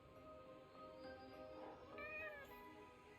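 A cat meows inside the video game Forspoken, a few clear rising and falling cries set over a steady layer of in-game ambience and tones.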